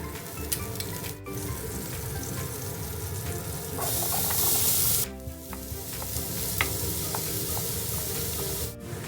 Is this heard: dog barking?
no